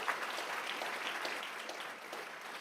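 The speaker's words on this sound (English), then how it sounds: "Let's give a big round of applause for Coppergate," A school board meeting audience applauds, a soft, continuous patter of many hands clapping that carries evenly from start to finish.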